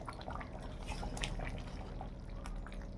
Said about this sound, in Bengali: মাংসটা কি সুন্দর ঘুটঘুট করে ফুটছে